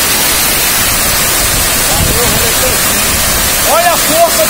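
Water pours over Cachoeira do Funil, a waterfall in Embu Guaçu, as a loud, constant roaring rush, with people talking excitedly over the noise.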